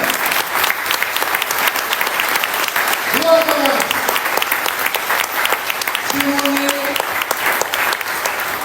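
Sustained, dense applause fills an audience at a Pakistani political gathering, steady and loud throughout, with a voice speaking briefly over the clapping.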